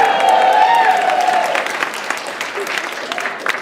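Loud applause and cheering from a dinner audience at a benefit and awards dinner, strongest at first and thinning out toward the end, with a faint voice underneath.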